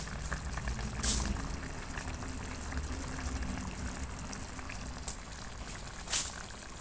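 Liver pieces with onion boiling in a pot over a village cooking fire, a steady bubbling simmer with a few louder bursts, close by and without talk.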